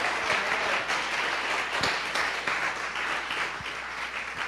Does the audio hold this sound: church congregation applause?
yes